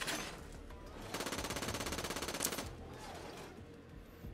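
Rapid automatic fire from an incendiary gun in the shooter game Borderlands 3 sounds as a tight burst of about twenty evenly spaced shots lasting roughly a second and a half, set against quieter game ambience.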